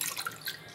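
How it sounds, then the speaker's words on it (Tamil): Water is splashed briefly into a cooking pot while making mushroom biryani, a short, soft, pouring gush lasting under a second. "இப்போ 6 டம்ளர் தண்ணி வந்து ஆட் பண்ணிக்கலாம்"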